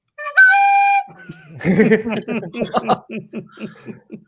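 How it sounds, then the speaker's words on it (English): A short steady penny whistle tone sounds alone, followed by a few seconds of chuckling and laughter. "I will announce it via penny whistle."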